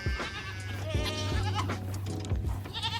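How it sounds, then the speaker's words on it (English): Several goats bleat in a farm pen, with repeated calls spread over the clip, fairly close and clear, no talking. "there's only 2 goats in there because I want them to breed"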